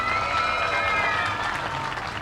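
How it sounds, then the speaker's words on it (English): An audience gives a dense, continuous round of applause for pageant contestants at an opening-ceremonies event, loud and steady from start to finish, with crowd noise mixed in. "Let's hear a big round of applause for them."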